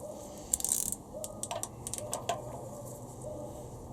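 A ratchet clicks in short, quiet bursts of ticks while winding the crankshaft of a Honda B18C4 engine toward top dead centre during a cambelt job, the clicks irregular and close, with no talking.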